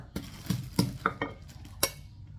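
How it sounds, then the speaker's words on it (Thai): A pestle pounds chilies in a mortar while making a Thai santol salad: a handful of sharp, close thuds struck at an uneven pace, with faint clinks between them. "พี่พรก็เอาพริกใส่ครกค่ะแล้วให้พรจะตำ ตำพริกนะคะ"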